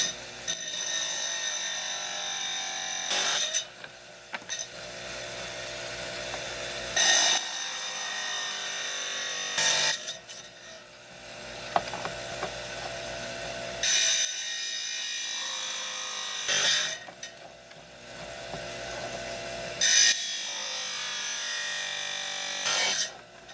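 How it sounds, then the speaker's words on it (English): A small 5-inch trim saw grinding through a piece of Montana agate, a steady high-pitched whining cut that stops and restarts several times as the stone is repositioned. "we're on my little 5-inch high-tech trim saw here"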